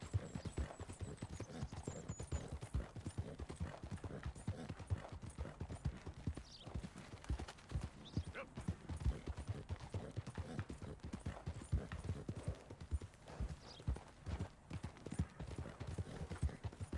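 Rapid clip-clop of a horse's galloping hooves in the video game Red Dead Redemption 2 runs steadily throughout, with an occasional whinny cutting in over the rhythmic pounding.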